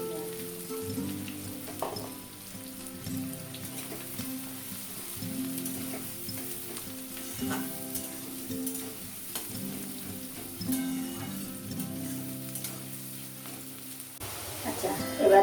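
Three onions, two large and one small, sizzle in oil in a pan with a soft, even hiss and occasional clinks of stirring throughout. No one speaks.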